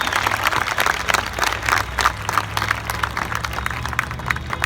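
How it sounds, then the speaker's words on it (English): Scattered applause from a modest crowd honoring a man named Dave, uneven claps rising and falling in clusters at moderate distance, no talk over it. "One more round of applause. Let's hear it for Dave."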